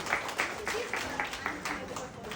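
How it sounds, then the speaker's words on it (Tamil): Moderate audience applause welcoming a speaker on stage at an entrepreneurs' event, rhythmic clapping from a crowd with voices mixed in. "பலமான கைத்தட்டலோட லெட்ஸ் வெல்கம்"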